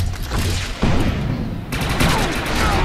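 Gunfire in a PvP match of the Defiance video game: dense, rapid bursts of shots and booms overlapping continuously, loud and close throughout.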